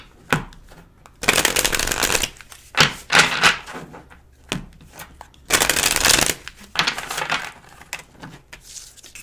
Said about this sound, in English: Now the cards are flying all over.